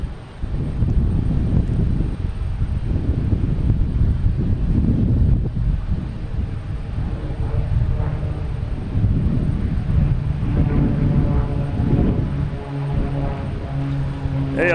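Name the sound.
Cape Air Cessna 402 aircraft flying over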